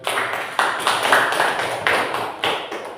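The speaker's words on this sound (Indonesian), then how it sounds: "Kasih tepuk tangan" A small group of listeners gives scattered applause at a religious study session, with a few distinct sharp bursts of clapping at irregular intervals, close and moderately loud.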